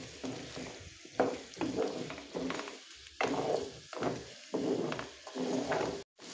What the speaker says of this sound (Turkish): patateslerimizle de bir 2-3 dakika daha kavuracağım